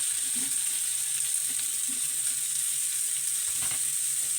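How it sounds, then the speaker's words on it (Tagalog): Sliced squash sizzles in a hot pan, a steady, fairly quiet hiss with a few soft scrapes and knocks from the pan, and no talk over it. "Pwede na natin ilagay ang hiniwang kalabasa."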